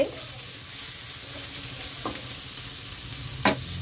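Mixed vegetables with chopped green chilli fry in oil in a pan over low flame, giving a soft, steady sizzle with a couple of brief stirring clinks, quiet and without talk.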